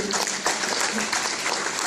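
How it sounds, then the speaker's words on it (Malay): Applause from an audience at a retirement ceremony, a dense steady wash of clapping filling the whole stretch with no pause. "Sila beri tepukan yang gemuruh sekali lagi"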